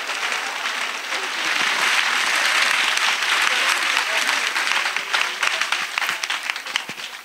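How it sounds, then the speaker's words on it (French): Sustained applause from a church congregation during a service, steady dense clapping that fills the room, with a faint voice under it. "Acclamez. Let's clap."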